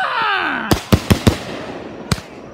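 Fireworks from a birthday show burst loudly overhead: a rising whistling wail, then four sharp booming reports in quick succession and one more a moment later, close and loud.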